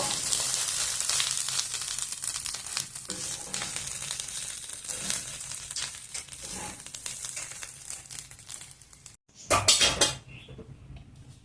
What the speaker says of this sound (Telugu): రైస్ను నిదానంగా బాగా అంతా కలిసేటట్లుగా కలుపుకున్నాము.